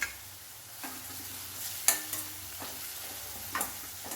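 Ginger garlic paste stirred into softened onions in a pan for prawn thokku: a low steady sizzle broken by four or five scraping spoon strokes, near and moderately loud.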